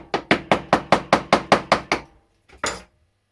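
Sharp metallic hammer taps drive a pin out of a Volkswagen Eos key fob in a steady rapid series of about ten, then pause before two more blows, close and loud with no talking.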